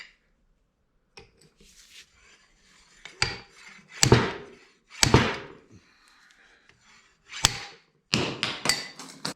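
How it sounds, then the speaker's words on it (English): Repeated sharp metallic impacts of a slide hammer pulling a hub seal on an LMTV military truck, about half a dozen irregular knocks with short ringing tails and quiet scraping between, close by. "I'm just going to use my slide hammer."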